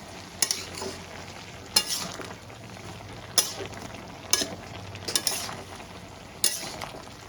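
Mixed vegetables with pumpkin stalks and a fish head cook in a pan, a low sizzle broken by about six sharp scraping stirs of a spatula, close by and with no talking.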